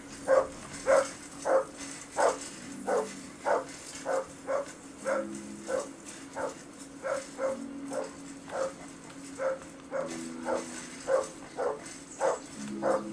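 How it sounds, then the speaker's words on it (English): A dog in the video game Kingdom Come: Deliverance barks in a steady, rapid run of loud, close woofs, at about two each second, over a faint background hum. "Call off that damn dog before he wolfs down the last of our meat!"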